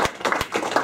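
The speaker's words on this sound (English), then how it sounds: "So I think that in itself deserves a round of applause." A small audience at a Sydney web-industry talk claps in a quick, short round. A few distinct hand claps overlap within less than a second, close and moderately loud.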